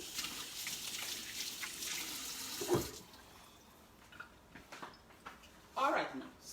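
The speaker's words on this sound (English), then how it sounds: "Let me wash my hands." A kitchen tap runs for a few seconds as hands are washed under it, then cuts off, leaving quieter trickles, clinks and faint background voices.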